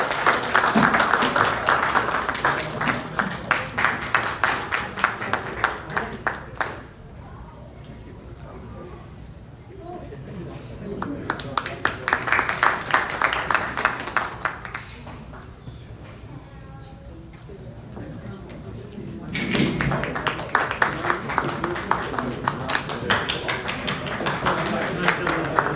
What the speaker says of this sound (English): A round of applause would be nice.